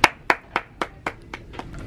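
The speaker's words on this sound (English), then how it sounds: "Wait, that clap sounded like dad's" About eight sharp hand claps in a steady, evenly spaced rhythm, each crisp and close, with the final few growing slightly softer, heard alone in a quiet room.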